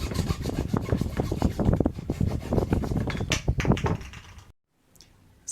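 Rapid rasping strokes of a saw cutting through plastic drain pipe, steady and close, ending abruptly in near silence.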